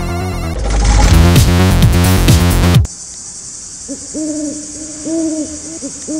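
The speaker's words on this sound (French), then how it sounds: "Toi le hibou, arrête de nous saouler là." An owl hoots in repeated soft, rising calls at night, following a loud burst of music that cuts off abruptly; the hoots sound moderately near over a faint background hiss.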